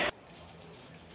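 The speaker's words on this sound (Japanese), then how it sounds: "雨すげえな、めっちゃ降ってきた" Heavy rain pours down in a steady, dense hiss that holds evenly throughout, preceded by a brief louder burst at the very start.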